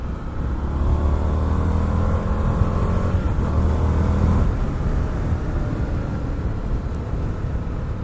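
An Indian FTR 1200 S motorcycle, a 2020 Race Replica with a 19-inch front wheel, runs with a steady, loud engine drone and a deep low rumble throughout, close by and with no talk.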